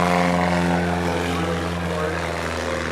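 A Piper Pacer short-wing propeller plane takes off at a STOL demonstration at EAA AirVenture Oshkosh, its engine a loud, steady droning roar with a strong tonal hum throughout, with talk over it.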